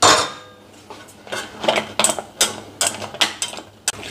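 Melting chocolate being stirred continuously in a small pot, giving a close run of repeated scraping clicks and metallic clinks in an uneven rhythm, alone without talk.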